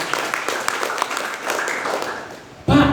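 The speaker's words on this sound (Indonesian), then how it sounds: "Tepuk tangan buat PT BES sekalian." An audience claps for the company PT BES, a short burst of scattered, fairly close applause that thins out, then ends in a sudden louder crash of sound.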